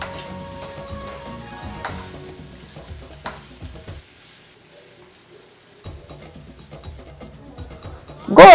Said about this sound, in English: Thoroughly mix in and allow it to fry for some minutes, about 3 to 5 minutes depending on the amount. Stir at interval.